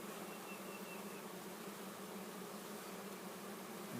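Honey bees swarm around an open hive, their dense, steady buzzing filling the air close by without a break, with no voices over it.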